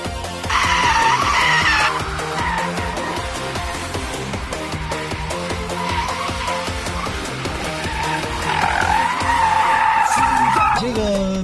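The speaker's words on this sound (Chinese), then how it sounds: "这个漂移的时候它起漂点以及控制油门和方向的角度力度确实需要很细腻" Ford Mustang Mach-E GT electric car, two-wheel-drive version, drifting on a race track, its tires squealing loudly and continuously for about eleven seconds with shifting pitch as the slide changes.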